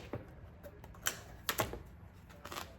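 A Sizzix die cutting machine cranked by hand, paper crinkling as it feeds through, heard as faint irregular clicks and ticks with a few sharper snaps, close and quiet, with no talking.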